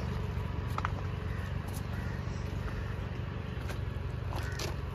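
A few brief crunchy bites into a ripe guava sound close, against a steady background hum.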